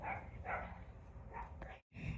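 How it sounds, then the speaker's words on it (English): Several dogs barking outdoors by a home garden, a few sharp barks and yips in quick bursts, fairly distant and quiet. "I'm not sure what my dogs are barking at."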